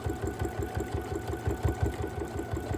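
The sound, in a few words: sewing machine stitching a quilt edge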